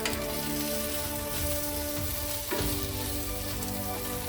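Sausages fry in a pan with a continuous, dense sizzle and faint spitting pops, close and even for several seconds, with a brief scrape partway through.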